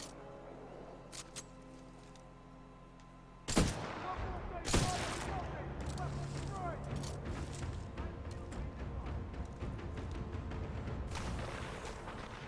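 Gunfire in the Titanfall 2 video game: a quiet stretch, then sharp shots that break into sustained rapid fire and bursts with impacts, moderately loud and busy.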